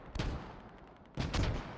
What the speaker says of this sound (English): Those are still the mortars.